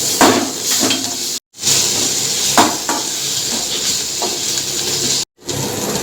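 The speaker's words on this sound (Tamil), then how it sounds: "இஞ்சி பூண்டு பேஸ்ட் போட்டுக்கலாம். போட்டு நல்லா வதக்கிக்கலாம்." Onions sautéed with ginger garlic paste in a pan for a veg kurma, giving a steady close sizzle with utensil scrapes and clinks from stirring, broken by two short silent gaps.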